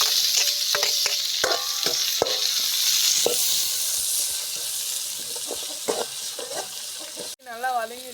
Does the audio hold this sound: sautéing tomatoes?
yes